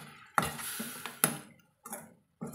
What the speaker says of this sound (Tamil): இப்போவே இது போல் நல்லா கலந்து விட்டுக்கலாங்க